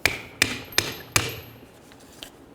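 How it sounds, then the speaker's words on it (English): A small hammer taps a pickup's ignition coil to loosen it, 1994-2004 Chevy S-10: four sharp metallic knocks in a steady, fairly quick rhythm, close and distinct, fading to faint rustles. "let's continue on with a small hammer. I'm just going to give this a couple loving bonks to separate it"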